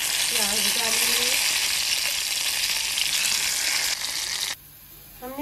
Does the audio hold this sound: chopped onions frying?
yes